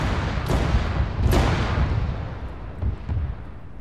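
Tank guns firing in a video game armor training operation: two sharp loud cannon blasts close together, then fainter distant shots and a rumbling tail, with no talk.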